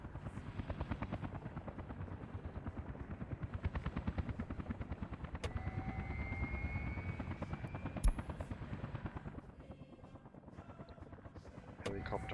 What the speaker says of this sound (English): Helicopter hovering and burning fuel, waiting for the gravel to load on the other one.